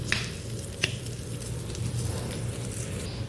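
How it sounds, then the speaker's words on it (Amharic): Onion and carrot fry in a pan with a steady, soft sizzle, broken by a couple of brief stirring clicks, close and alone without talk. "ሽንኩርትና ካሮት ሲጠበስ"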